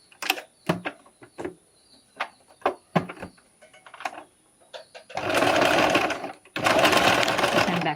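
A sewing machine stitches a seam on a corset toile in two steady close bursts, preceded by a series of sharp clicks and taps from handling and positioning the fabric.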